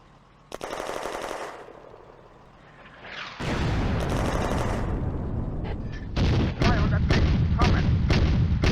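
Gunfire rages in the Firefight Ost Front war game during a fight near Saint Paraskevi Church, with loud, sustained machine-gun bursts and heavy artillery booms packed close together.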